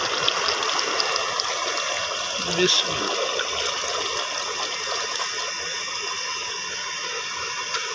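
A glass of water gushes steadily into a pot of aloo mutton karahi, a continuous rushing pour close by, with a brief voice partway through.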